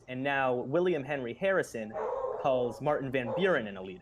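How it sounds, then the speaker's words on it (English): A pet dog barks and yips in short repeated bursts close by, mixed in with someone talking steadily over it. "Excuse my dog."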